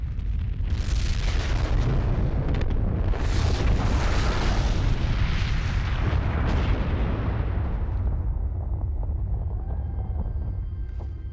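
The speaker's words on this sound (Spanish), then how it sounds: "928 de las mayores explosiones nucleares jamás realizadas se vieron aquí." A huge nuclear test explosion at the Nevada test site, a deep continuous rumbling roar with booming bursts that swells and then slowly fades over about eleven seconds, loud and alone with no talking.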